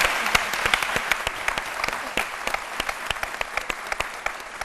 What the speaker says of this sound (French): je vous demande d'applaudir très fort